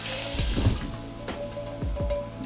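Cooked pork hits hot ramen broth and sizzles loudly, with a few sharp bursts of frying hiss and stirring clatter, close and with no talk.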